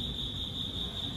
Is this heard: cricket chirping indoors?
yes